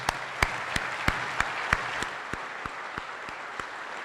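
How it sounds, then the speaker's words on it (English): A round of applause from the attendees at a Fort Knox garrison change of command ceremony, steady crowd clapping with sharper individual claps cutting through at irregular intervals, moderately loud and continuous. "I'd like to ask that we give him a round of applause"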